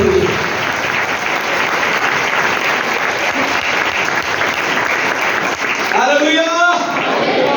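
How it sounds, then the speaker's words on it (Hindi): Church congregation at a Sunday service applauding loudly, a sustained burst of dense clapping for several seconds, then giving way to a voice speaking. "आए जोरदार ताली यीशु के लिए।"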